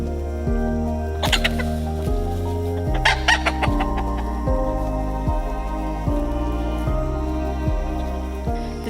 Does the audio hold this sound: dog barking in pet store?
no